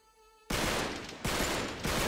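Gunfire in the video game Uncharted 3: Drake's Deception, loud sustained bursts of automatic fire that start abruptly after a quiet musical moment and break off and resume twice.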